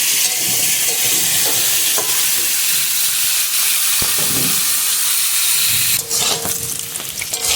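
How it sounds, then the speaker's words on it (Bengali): Potato pieces fry in hot oil until reddish-brown, giving a constant loud sizzling hiss with occasional sharp clinks of stirring against the pan, close up and without talk. "লাল লাল করে আলুগুলো ভেজে নেবো।"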